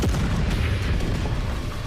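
Explosion from the Fire Force anime, a loud, continuous booming rumble heavy in the low end that fills the whole short stretch with sustained roaring noise and no speech.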